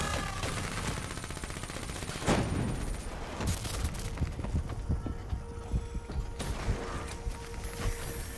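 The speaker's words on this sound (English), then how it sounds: "Man, I don't appreciate getting shot at." Gunfire in Call of Duty: Black Ops III Nightmares mode: dense, continuous bursts of automatic weapon fire and sharp shots, with mechanical clatter and a few louder impacts, steady throughout with no talking.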